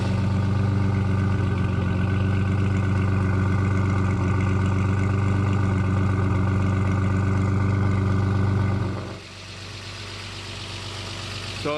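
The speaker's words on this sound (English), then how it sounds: "Nice and quiet, as you can hear, the car is running." A car engine idles steadily and close by, a low, even hum with a faint knocking texture, then drops noticeably quieter near the end as the tone changes.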